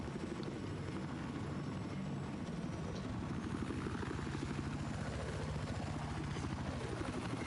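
An attack helicopter in Battlefield 4 flies with a continuous rotor thump and engine drone, loud and steady throughout, rhythmic blade chopping pulsing low beneath a hissing wash.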